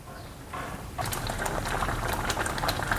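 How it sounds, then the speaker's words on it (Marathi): Bubbling and gentle popping of a leafy vegetable curry boiling in a pot, steady and close, growing busier after the first second. "ही बघा अशी भाजी उकळू द्यायची आहे"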